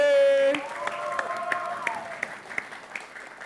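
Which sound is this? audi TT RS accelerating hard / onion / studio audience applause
studio audience applause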